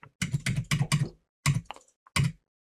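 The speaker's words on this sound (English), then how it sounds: "I'm gonna just type in" Keys clatter on a computer keyboard in quick close bursts, a fast run of taps, a pause, then two shorter clusters, with nothing else audible.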